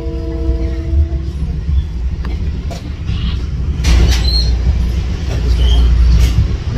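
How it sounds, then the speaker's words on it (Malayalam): Ride inside a train heading to New York City: a steady low rumble of the carriage rolling along the track, with occasional clicks and faint squeals over a constant hum, no talking. "നമ്മളിപ്പം ട്രെയിനില് ഇരിക്കുകയാണ്"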